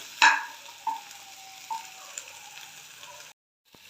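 Capsicum and curry leaves stir-frying in a hot pan, a steady sizzle with a few sharp scraping stirs near the start, close up, ending abruptly.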